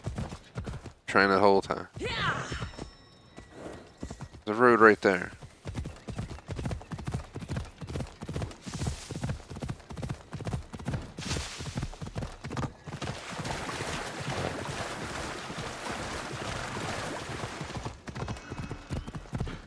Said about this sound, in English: finally I can get my horse